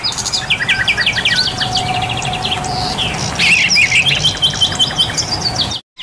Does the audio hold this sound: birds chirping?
yes